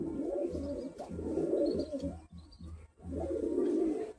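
Pure white pigeons, Kamagar and Kaldoma birds kept for high flying, give repeated low throaty cooing in two long bouts with a short pause between them. The birds sound close and carry on alone with no talking.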